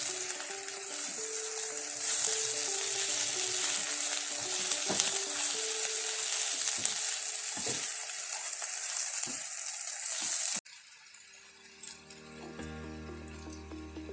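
Spicy potato fry with coriander leaves sizzling steadily in a pan while being stirred, with scraping strokes over a constant frying hiss that drops abruptly to a quieter background near the end.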